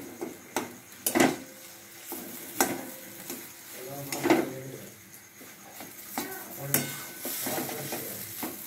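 Spice masala fries in a pan, with irregular scraping stirs of a spoon over a faint, close sizzle and the occasional clink of the utensil against the pan.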